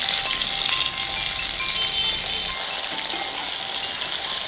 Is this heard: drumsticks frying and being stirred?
yes